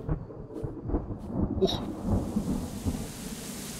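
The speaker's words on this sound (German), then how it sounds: "auf einmal wird es dunkel und es regnet" Thunderstorm with rain in The Clearing, dark rumbling thunder rolling over steady rain hiss, with a brief startled exclamation from a person near the middle.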